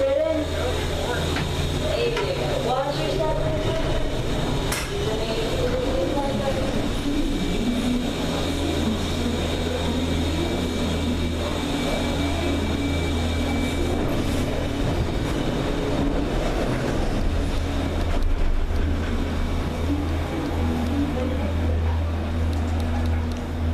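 Riding a Disney Skyliner gondola at Walt Disney World near Caribbean Beach: a steady low mechanical rumble and hiss of the moving cabin continues throughout, with people talking over it.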